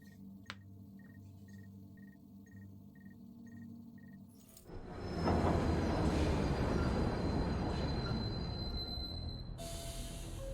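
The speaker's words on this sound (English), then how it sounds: "My train's waiting for me," A train in a video game, first a quiet beeping signal over a low hum, then a loud rumbling roar of the train running on rails with faint squealing tones, continuous to the end.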